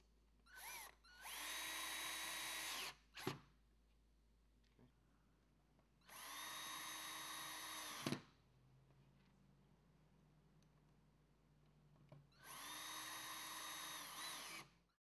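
Three bursts of a cordless power drill driving machine screws through a lower ball stud plate into T-nuts on a Murphy bed frame, each run lasting about two seconds with steady high whine, separated by quiet pauses and small clicks.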